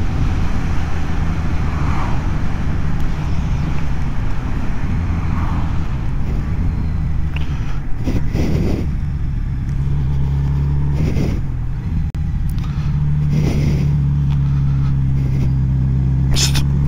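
A Kawasaki Z900RS motorcycle rides on a greasy road on a cold New Year's Day, its steady engine drone and wind rush loud and continuous, with the note rising and falling through a few gear changes.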